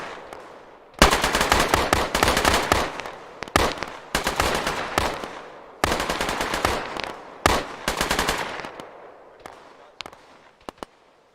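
Sustained bursts of automatic gunfire erupt after a brief lull, loud rattling volleys separated by short pauses, then a few isolated single shots near the end, in a military shooter game assault.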